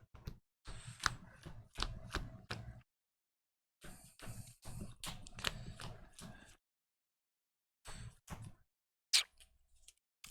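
Pile shuffling of a Harry Potter trading card game deck: bursts of soft card taps and slaps come in uneven groups with short silent gaps between, close and fairly quiet.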